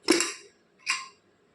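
Two separate metallic clanks about a second apart, bright and close, as a pressure cooker lid is unlocked and lifted after cooking dal and greens.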